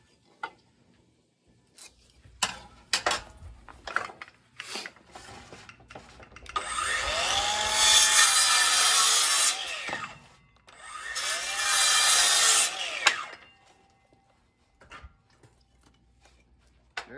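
Wooden blocks for a mini greenhouse cold frame being sawn to eight inches: two sustained rasping cuts of a few seconds each, separated by a short pause, with scattered knocks and handling clicks before and after.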